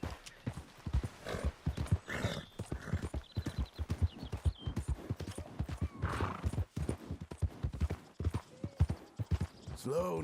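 Hooves clip-clop in a steady rhythmic gait in the video game Red Dead Redemption 2, with a horse whinnying partway through and a voice speaking briefly.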